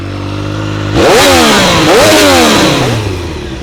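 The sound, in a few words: Triumph Street Triple RS motorcycle exhaust revving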